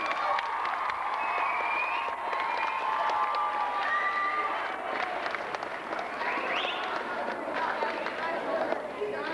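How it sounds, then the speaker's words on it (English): School assembly crowd applauding and cheering a guest speaker in a gym or hall, steady dense clapping with shouts and whistle-like cries running throughout, loud and sustained for the whole stretch. "Please give Rich Dixon a big round of applause"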